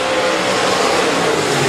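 B-Modified race cars roar around a speedway oval during a heat race, a loud continuous engine drone with steady revving and no gaps, close and dense across the whole stretch.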